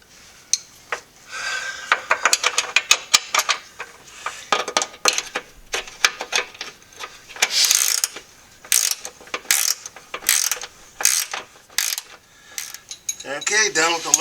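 A ratchet clicks in quick bursts while bolts are retightened under a Porsche 996 Turbo on ramps, with close, sharp, rhythmic pawl rattles, metallic tool clinks and brief pauses between runs.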